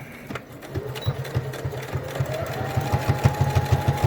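A sewing machine back stitches a fabric face mask with a pocket, its rapid, even needle rhythm steady and fairly close, speeding up slightly with a faint motor whine rising beneath.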